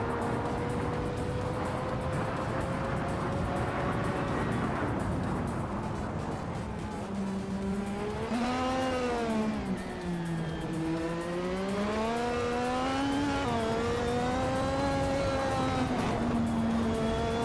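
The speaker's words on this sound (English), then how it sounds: "Dale Earnhardt is driving a Zaxpeed 881, which is known for its unique design and lower profile." Race car engines in a racing video game, including a Zakspeed 881 Formula One car, whine continuously, their pitch rising and falling as they shift and accelerate, loud and close with several engines layered together.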